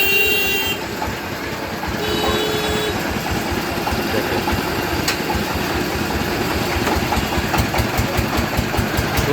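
Vehicle engines rumble and idle at a busy rural cattle market where local cows arrive on assorted vehicles, a loud, continuous drone with short horn toots breaking through now and then.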